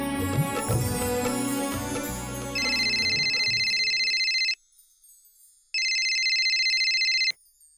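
A telephone rings in two loud electronic bursts with a pause between, entering over fading background music.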